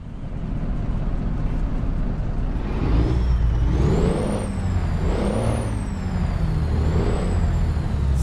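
A Caterpillar-engined Freightliner Classic XL truck in Euro Truck Simulator 2 cranks and starts, then settles into a loud, steady diesel idle with rising and falling revs and a faint high whine over the rumble.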